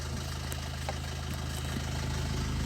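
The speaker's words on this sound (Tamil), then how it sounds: "வண்டியை ஸ்டார்ட் பண்ணியாச்சு." A Maruti Ritz engine idles steadily just after starting, with a faint, low rhythmic hum. The car has a faulty instrument cluster with a flickering tachometer.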